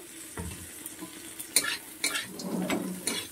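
Cashews and raisins fry in a pan with scraping stirs and clinks of a utensil against the metal over a soft, crackling sizzle, close by and uneven in rhythm.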